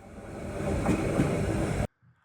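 Train pulling in on the Dutch line between Elst and Utrecht, a steady broadband rumble and rush of wheels and air held close and loud for about two seconds before cutting abruptly to near silence.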